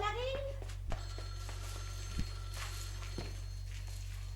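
An old-fashioned telephone bell rings briefly at the start of a French children's cartoon, with a few faint knocks and clicks following under a steady background hum.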